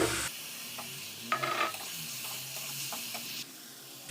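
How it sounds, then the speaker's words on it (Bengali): Fried potatoes go into a sizzling spiced masala in a pan, producing a soft, close sizzle with intermittent stirring clicks and scrapes. "মশলাগুলো কষানো হয়ে গেছে এবার এই আলু ভাজাটা দিয়ে দিচ্ছি"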